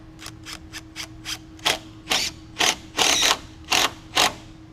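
A long screw is driven at an angle into a fiberglass patio door sill, heard as about ten close, short bursts of whirring driver, getting longer toward the end, over a steady faint hum.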